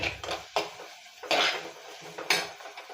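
Spatula stirring and sautéing in a clay pot over a low flame for a village-style fish curry, several distinct scraping knocks in uneven rhythm, close and clear with no speech.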